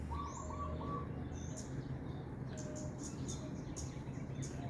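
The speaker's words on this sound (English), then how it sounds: "And these birds are definitely singing in tune with each other." Birds sing on a Bali morning beside a pool, with faint chirps, tweets and soft coos scattered over a quiet, hissy background.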